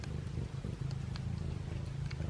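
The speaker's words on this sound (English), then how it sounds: "Do you hear him purring? He's purring so loud." A feral kitten purrs in a steady, low rumbling drone that fills the short stretch, close and continuous, with brief faint ticks above it.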